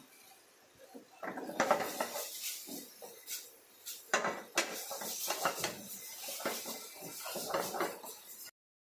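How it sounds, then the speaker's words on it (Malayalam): Fried chicken wings are tossed and stirred into sauce in a pan, giving soft irregular scraping, clinking and knocks of a utensil against cookware at moderate, fairly quiet level. "നമ്മൾ ഫ്രൈ ചെയ്ത് വെച്ച ചിക്കൻ്റെ വിങ്സും കൂടി നമുക്ക് ഇട്ട് കൊടുത്തിട്ട് നന്നായിട്ടൊന്ന് മിക്സ് ചെയ്യാം"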